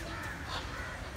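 Crows caw among other birds at Central Zoo in Lalitpur, Kathmandu, Nepal, a single short call rising faintly out of distant outdoor ambience.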